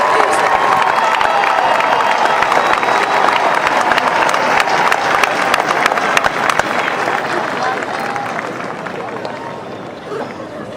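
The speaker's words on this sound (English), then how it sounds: "Let's have a round of applause for our graduates from the school." Ithaca College graduation audience applauding the graduates, loud sustained clapping and some cheering from a large crowd with murmuring voices, easing slightly near the end.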